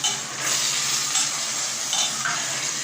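Tomato paste hits a hot karahi pan of boneless chicken in Schezwan sauce, giving a continuous close sizzle and hiss of frying with faint stirring.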